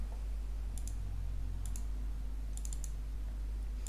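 A few sharp computer mouse clicks in pairs and small clusters, spaced about a second apart over a steady low hum, close and fairly quiet.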